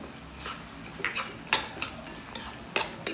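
Paneer and cashew pieces stirred in a pan of sabzi with oil, bright metallic spoon scrapes and clinks landing in an irregular rhythm over a faint sizzle, close and without talk.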